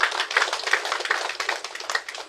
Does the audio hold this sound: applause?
yes